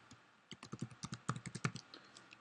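Product name typed on a computer keyboard, a steady run of soft, close key taps at an even pace, tapering off at the end.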